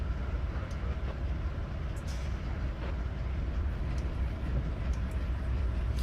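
Freight train locomotive hauling through Cajon Pass in Train Sim 2019, a steady low engine rumble and rolling drone that holds even throughout, with faint clicks and rattles on top.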